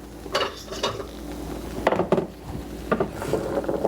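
Roasted nuts stirred in a metal pan, giving a few bursts of scraping and rattling with short pauses between, close and fairly clear.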